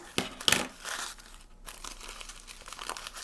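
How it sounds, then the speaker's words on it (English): Paper or thin craft material being wrinkled and folded up on itself by hand for a mixed-media spring door wreath, a run of close, crinkly rustles with a sharper crunch early on, no talking. "just wrinkle it up, fold it up on itself"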